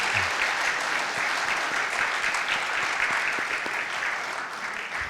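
A church congregation at a Sunday service claps continuously and evenly, a dense wash of applause lasting throughout without pause.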